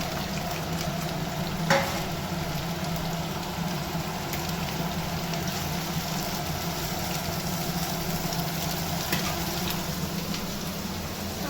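Carrot, egg and capsicum frying together in a pan for vegetable fried rice, giving a steady, even sizzle throughout with one brief clatter near the start and no talking.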